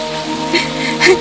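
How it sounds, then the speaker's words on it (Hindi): Rain begins to fall in a cartoon story scene, a brief patter of drops on a surface over a steady tonal hum, with a couple of louder splashes. "तभी बारिश भी शुरू हो जाती है।"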